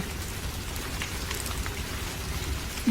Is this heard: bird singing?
no